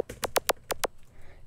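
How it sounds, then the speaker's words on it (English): Pitched-up Serum kick drum in a melodic house track, a quick run of about seven short tonal thumps in an uneven, off-kilter rhythm, fairly quiet and dry. "a pitched kick drum or serum kick drum."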